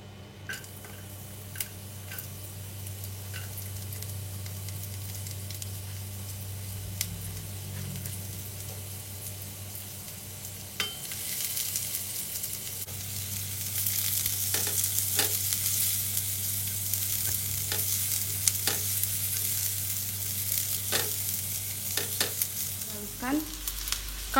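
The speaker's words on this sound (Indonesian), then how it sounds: "Masukkan sedikit minyak goreng untuk menumis bumbu halus dan bawang putih" Ground spice paste, garlic and sliced shallots sauté in a little frying oil for beef rib garang asem, a steady close sizzle that grows louder midway, with repeated scraping stirs and light clicks, and no talk.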